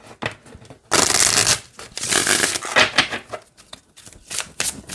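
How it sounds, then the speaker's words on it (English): Flexible cards of a Seasons of the Witch Imbolc Oracle deck riffle and rustle in several quick bursts as the deck is shuffled close by, with brief pauses between. "very flexible, shuffles just fine this way, much like the other decks"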